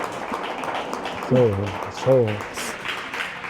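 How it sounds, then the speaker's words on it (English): An audience applauds in a steady background patter while a man calls out loudly twice over the clapping. "one more round of applause for them, y'all"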